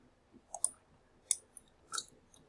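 A few quiet, sharp computer mouse clicks in takeoff software, spaced irregularly over near-silence.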